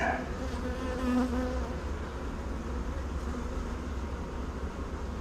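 A dense, steady hum of many honeybees buzzing up close on a hive frame, a continuous drone with no pauses.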